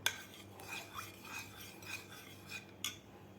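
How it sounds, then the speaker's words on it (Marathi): Thick homemade curd being whisked in a bowl, a quick run of rhythmic metallic scrapes and taps against the bowl, close and fairly quiet, with a sharper clink near the end. "तर आपल्याला या दह्याला फेटून घ्यायचं आहे."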